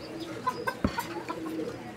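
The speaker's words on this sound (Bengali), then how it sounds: "প্রিয় দর্শক, আপনারা কবুতর দেখেন" Pigeons coo at a pigeon market where pairs of Roman and Mundian pigeons are sold, the soft throaty calls repeating irregularly amid market bustle, with a sharper, louder coo near the middle.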